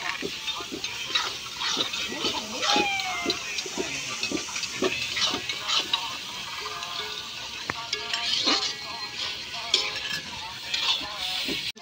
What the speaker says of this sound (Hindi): गाइस अब इसमें डालेंगे पानी थोड़ा सा